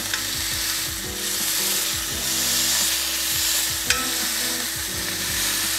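A smash burger sizzles loudly in hot beef tallow, with steady frying crackle and occasional scraping of a spatula against the pan.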